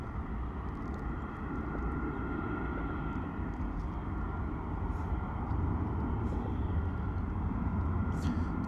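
An Airbus A319 airliner climbing away after takeoff, a steady broad jet roar that holds loud and even throughout, with faint background sounds and no clear talk.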